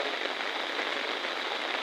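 Heavy rain pours down steadily, a dense, even hiss of countless drops close by, with no pauses and no voices.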